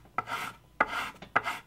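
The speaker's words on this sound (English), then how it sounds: "I'm going to sand this direction down here" A solid-body electric guitar body being hand-sanded along the grain in three broad rasping strokes, each with a sharp start and a scratchy fade, close and alone with no talking.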